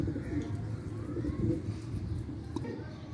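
Kept pigeons returning to their loft coo in a low, continuous murmur nearby, with faint chirps and background voices throughout.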